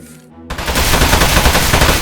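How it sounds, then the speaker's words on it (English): Gunfire in the video game Aperture Desk Job, a loud sustained burst of rapid automatic shots starting abruptly after a short quiet moment and continuing without pause. "So shoot the metal."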